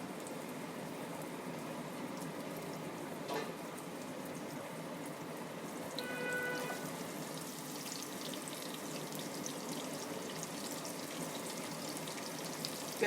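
Onions frying in a pan until lightly browned, a steady low sizzle and soft bubbling heard close up, continuous and fairly quiet, with no talking.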